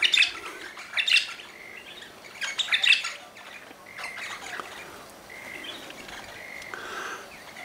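Several small birds, many of them red, chirp and squawk around a backyard bird feeder, with a few louder bursts of calls early on and softer, more scattered tweets afterward.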